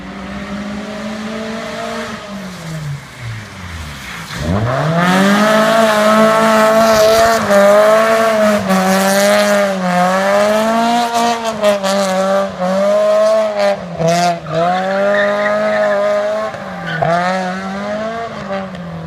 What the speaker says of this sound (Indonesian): Suara intake-nya khas banget, meskipun 4 silinder.